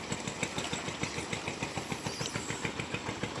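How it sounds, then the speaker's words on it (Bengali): Engines of hilsa fishing boats on a river, a steady rhythmic mid-pitched chugging that pulses evenly throughout, heard alone without talk. "দেখুন এখানে শত শত ইলিশ ধরার নৌকা তারা কেউ ইলিশ ধরতে যাচ্ছে আবার কেউ কেউ আবার ইলিশ ধরার পর ফিরে আসছে"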